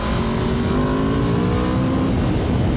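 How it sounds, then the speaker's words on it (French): An Aprilia RSV4 sport motorcycle accelerates hard, its engine note rising steadily in pitch as it revs, loud and close throughout, with steady wind rush and no speech. "là chaque accélération que je fais, je suis pas préparé"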